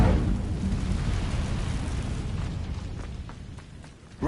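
An Incendio fire spell from Hogwarts Legacy bursts out as a loud whooshing roar that slowly fades, ending with a sharp new hit.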